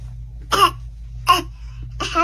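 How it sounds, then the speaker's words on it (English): A child gives three deliberate fake coughs, short and spaced about a second apart, close and loud over a low steady hum. "I think that's a fake cough."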